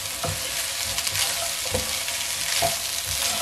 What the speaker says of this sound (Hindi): और चम्मच एहतियात से चलाएंगे